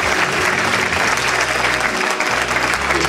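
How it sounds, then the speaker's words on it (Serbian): A large audience at a 15th-anniversary seminar claps loudly and steadily. The close, dense applause fills the whole stretch without a break and drowns out any voices. "Jedan veliki aplauz za sve vas koji ste ovde sa nama."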